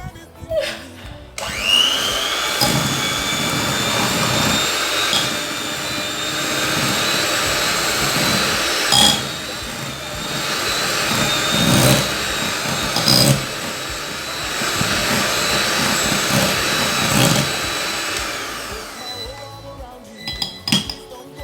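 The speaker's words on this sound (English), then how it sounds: "we are going to whisk that now." An electric mixer whisks banana bread batter in a bowl, a loud continuous whir with clinks of the beaters against the bowl running for about twenty seconds.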